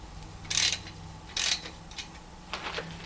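A wrench snugging a 1/2 inch nut onto a bolt on a Ridgid 7-inch tabletop wet tile saw gives a few short, close metallic ratcheting bursts, two stronger clicks followed by fainter ones, with no talking.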